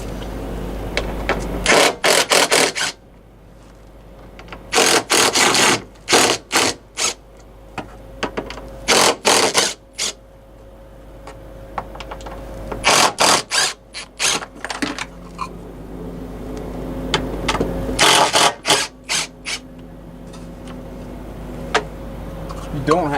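A ratchet loosens T25 Torx screws on a semi truck air filter panel, sounding in repeated bursts of rapid metallic clicking separated by quieter pauses, close and loud.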